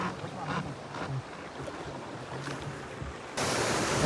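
A big river flows past in a broad, steady rush of water, with wind buffeting the microphone and a louder, brighter surge near the end, and no voices.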